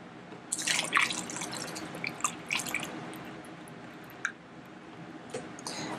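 A bottle being topped up with water, giving close splashes and a light trickle that thins into sparse drips, quiet and with no one speaking.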